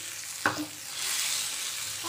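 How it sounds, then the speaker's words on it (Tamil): Cashew nuts fry in ghee at the edge of a pan while pumpkin halwa is prepared, giving a steady soft sizzle with one brief stir or clink near the start, and no one speaks. "அதே பாத்திரத்தில் ஓரத்தில் கொஞ்சம் நெய் விட்டு முந்திரி பருப்பு போட்டிருக்கேன்."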